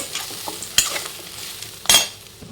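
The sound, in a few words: coconut being sautéed and stirred in a pan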